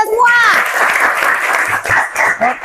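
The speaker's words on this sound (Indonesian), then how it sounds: "Tepuk tangan untuk kita semua." A high-school class bursts into brief hand clapping that runs under a teacher's voice, the applause filling most of the moment before fading as talk continues.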